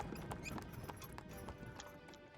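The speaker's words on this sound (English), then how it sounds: "You hear the sound of wheels and hooves against the cobbles in the yard." Carriage wheels and horse hooves clatter on cobblestones in a yard, rendered as video game ambience: a brisk, steady clip-clop rhythm of hooves with faint rolling wheel noise, moderately close.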